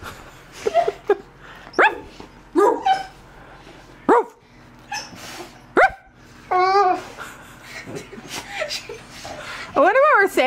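A dog whimpers, yips and gives several short barks in close, scattered bursts, with high rising whines toward the end and a person's voice mixed in between.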